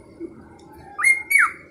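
A pet cockatiel gives two short, bright whistled chirps close up, each a rising then falling tone, separated by a brief pause in an otherwise quiet room.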